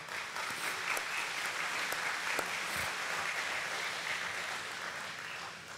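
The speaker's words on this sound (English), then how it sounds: "let's give them a round of applause" An audience at a rural cooperative's annual meeting dinner applauds, a steady mass of hand claps sustained for several seconds, moderately distant, tapering slightly toward the end.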